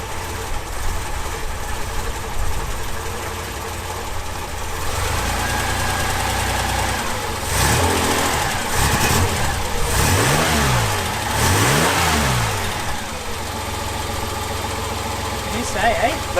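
A Reliant Scimitar engine idles after an oil change and is blipped through several quick rising and falling revs, close by, with voices talking over it.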